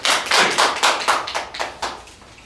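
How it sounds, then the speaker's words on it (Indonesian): A small group claps for a student after a microteaching presentation in an electrical engineering education class, roughly eight uneven bursts of close, hollow hand claps that soften and thin out toward the end. "Tepuk tangan untuk Mas Teguh."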